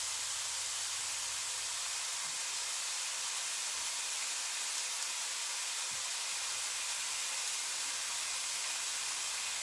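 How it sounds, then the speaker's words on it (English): Rosemary herb chicken bites sizzle in a pan, giving a steady, even hiss that stays constant throughout, with faint low knocks underneath. "Can you hear it sizzling?"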